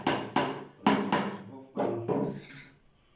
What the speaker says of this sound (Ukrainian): Потім прибиваємо цвяшок з однієї сторони.